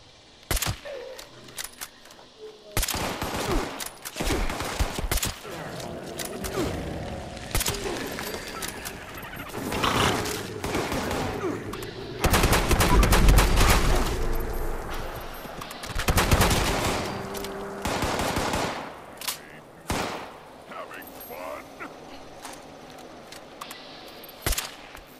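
Gunfire rings out while super mutants are shot in the video game Fallout 76: sharp single shots and quick bursts, loud and irregularly spaced, with short quieter gaps between volleys.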